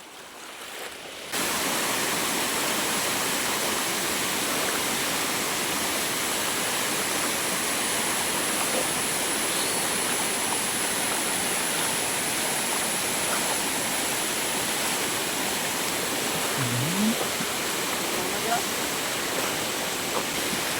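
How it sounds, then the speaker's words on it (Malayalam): A loud, continuous rush of flowing water fills the whole clip, steady and broad like fast floodwater streaming past close by, floodwater seeping through a house in Thrissur, Kerala. "അതൊക്കെ വീടിൻ്റെ ഉള്ളിൽ കൂടെ ഒളിച്ചു വരുന്ന വെള്ളങ്ങളാണ്"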